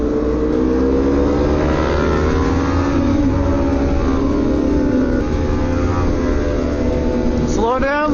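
Street motorcycles, a BMW S1000 and a Harley among them, ride through downtown in a group, their engines droning loudly and steadily up close with a rising rev near the end, while wind buffets throughout.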